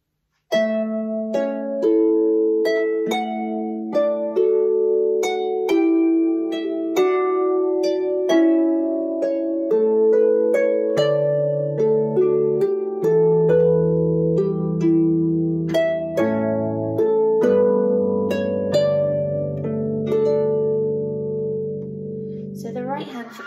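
Manx harp playing the traditional tune Moirrey Ny Gainle slowly, plucked notes and chords ringing clearly and alone at a steady moderate level.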